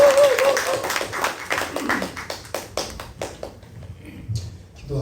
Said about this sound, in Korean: 우리 송기서 목사님 박수로 맞이하겠습니다